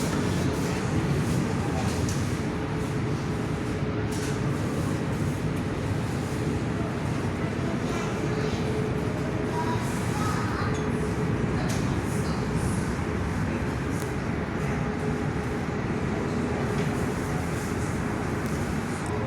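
A Jetstar A320 jet takes off from runway 21 at Perth, heard from an indoor viewing area as a steady, distant low rumble with people talking over it throughout.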